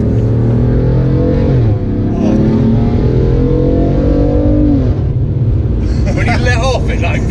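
A BMW M3 with an Armytrix exhaust revs loudly and steadily, pitch climbing and falling, with a burst of crackling pops near the end; voices can be heard over it.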